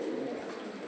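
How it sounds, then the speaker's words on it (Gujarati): A pigeon coos softly at Uparkot, one brief low murmuring call, faint and somewhat distant. "કબૂતર"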